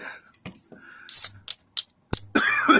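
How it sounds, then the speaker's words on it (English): A few sharp coughs, close by, scattered among short bursts of breath and throat noise. "I got a little cough here"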